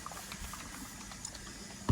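Water boiling in a pot on a stove during cooking, a soft steady bubbling and hiss heard faintly and up close, with a brief louder knock right at the end.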